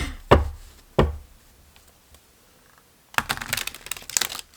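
Two sharp slaps of tarot cards, a pause, then a stretch of rapid riffling and flicking as the deck is shuffled, fairly close and with no talking.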